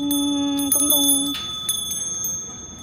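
Small hanging bells chime in a few clear, bright strikes that ring on and fade, heard close against a steady background hum.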